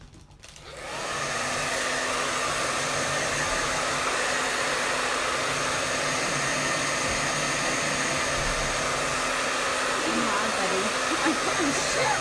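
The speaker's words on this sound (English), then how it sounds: "I'm going to hit it with the blow dryer between all of my lines" A hair dryer switches on and runs with a steady, loud whooshing roar that holds constant for several seconds.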